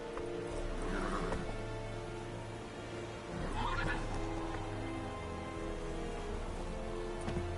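A horse in The Witcher video game gives a loud whinny over steady game ambience, with faint hoofbeats and a second neigh partway through.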